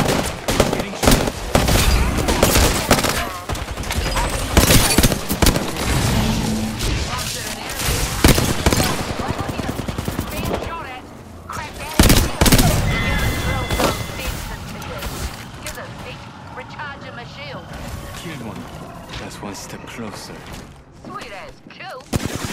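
Gunfire in the Apex Legends battle royale game rattles in loud, close automatic bursts and single cracks, with heavy impacts and pauses between volleys over a long stretch, and a voice calling out during the fight.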